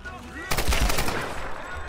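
Burst of automatic gunfire from the video game Tomb Raider Definitive Edition, a loud rapid volley that starts abruptly and rattles on with echoing shots, alone without talk.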